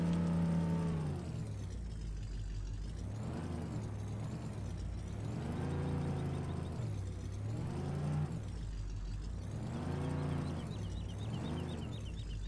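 A truck in the video game Farming Simulator 15 drives across the Smokey Mountains map. Its steady, low engine drone swells and fades in slow, regular waves, with no talking over it.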